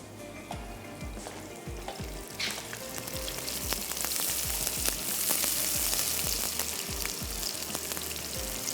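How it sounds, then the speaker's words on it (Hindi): Onions sizzle and crackle steadily as they fry in a pan for a Mandi rice dish, with intermittent scraping and stirring strokes throughout and the frying growing slightly louder partway through. "थोड़ा सा प्याज को स्टर करते चलते हैं।"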